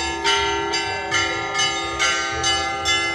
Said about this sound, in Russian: Праздничный звон разгоняет тучи и открывает фестиваль искусства и творчества «Золотовские купола»